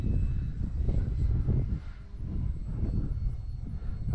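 A small RC model plane flies in strong storm wind, its engine drone mixed with heavy, buffeting wind noise that swells and dips throughout.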